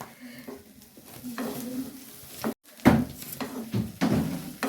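Kasuri methi is stirred and fried in a pan, a soft sizzle running underneath while a utensil scrapes and knocks against the pan in irregular bursts, with one brief pause partway through.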